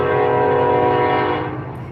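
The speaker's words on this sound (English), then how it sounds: "I apologize for the train" Loud, continuous horn of a nearby passing train over a thick rail rumble, holding steady and then easing slightly as it moves away.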